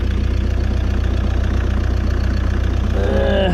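A Ford Transit Custom van engine idles roughly with a turbo oil pipe leak, a loud, steady, close diesel-like chug with an even pulsing beat throughout and a faint higher whine near the end.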